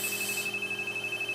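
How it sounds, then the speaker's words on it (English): The alarm of a medical duplex central vacuum system sounds as a steady, continuous high electronic tone over low machinery hum, close and fairly loud. "you have to manually shut that alarm off."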